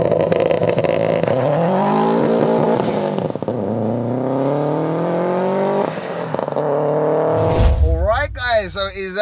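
A 488bhp Subaru WRX STI accelerates hard from a rolling launch on a damp, slippery surface, its loud engine note climbing steadily with a couple of quick gear-change dips before easing off.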